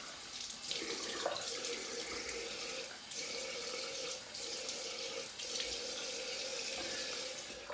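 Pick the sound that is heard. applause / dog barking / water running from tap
water running from tap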